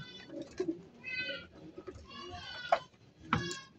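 Racing pigeons coo softly and flutter nearby as their water is set out, with someone talking over them throughout.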